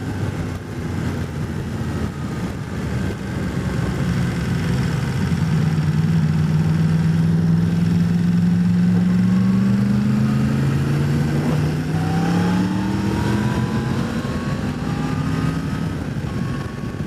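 A 2018 Yamaha MT10 motorcycle engine runs steadily and loudly, its pitch rising in long sweeps as the bike accelerates through the gears, then easing off with abrupt engine braking, with no talking.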